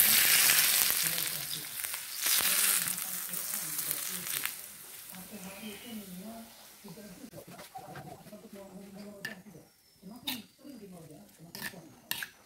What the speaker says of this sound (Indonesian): Tujuan dari menuangkan minyak panas supaya sambalnya ini matang